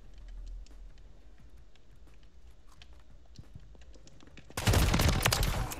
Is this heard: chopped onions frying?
no